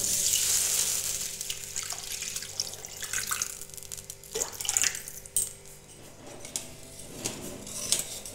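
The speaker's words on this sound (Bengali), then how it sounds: "এবার এতে আমি দিয়ে দিচ্ছি জল" Water pours into a cooking pan of spiced green peas, a splashing stream with intermittent gurgles and a few clinks of the pot, fairly close and moderately quiet.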